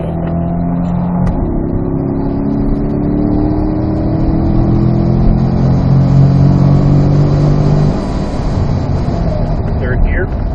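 A C8 Corvette accelerates hard in third gear on a race track, its engine note climbing in rising sweeps and then easing off under braking, loud and close with a voice speaking over it.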